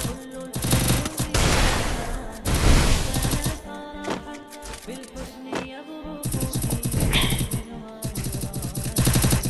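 Rapid automatic gunfire from a shooting video game comes in dense, loud bursts with sharp single shots between them, over game sound effects and a thumping soundtrack.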